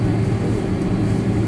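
An airplane taxiing on a taxiway at Ben Gurion Airport gives a steady, dense engine roar and rumble that holds evenly throughout, with no voices over it.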